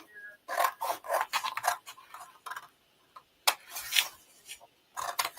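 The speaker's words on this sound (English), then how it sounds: "Okay, so I'm going to use these grid lines. Cut along here." Scissors cutting paper along grid lines, a close series of short crisp snipping and rasping strokes in bursts with brief pauses between, no talk.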